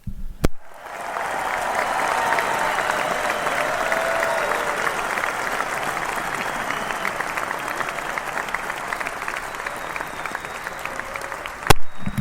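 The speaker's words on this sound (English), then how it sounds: "Of course, they get the super applause for that." Sustained applause from a crowd, dense clapping that continues steadily for several seconds.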